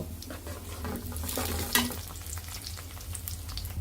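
Sliced onions fry into crisp beresta in hot oil, a steady close sizzle and crackle with occasional stirring scrapes against the pan.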